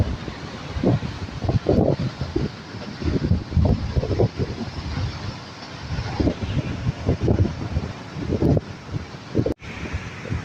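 Strong Typhoon Carina winds roar past the microphone in loud gusting bursts, buffeting noise rising and falling across the stretch, with a broad rushing wash like surf beneath.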